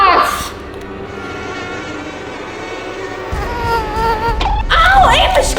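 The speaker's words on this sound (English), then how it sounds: "Oh, a mosquito!" A mosquito whines in a high, thin, steady buzz close to the ear, with a voice crying out near the end.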